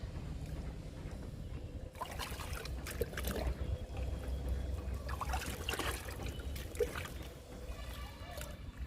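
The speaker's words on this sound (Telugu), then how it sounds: "పోస్తున్నాను లిక్విడ్ని. 4 మగ్గులు పోస్తున్నాను." Liquid plant tonic is poured by the mug into a 10-litre bucket holding 8 litres of water, giving soft splashes and trickles under a quiet background.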